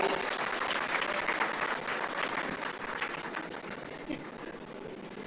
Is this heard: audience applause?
yes